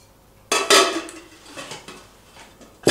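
A 3 to 3.5 litre cooking pot handled in a home kitchen, giving a few close metallic clanks and scrapes against cookware, loud at first and then fading to lighter knocks.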